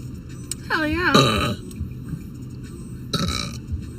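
A girl burps on a live stream among friends, two drawn-out, croaky belches a couple of seconds apart, loud and close, with faint chatter in the background.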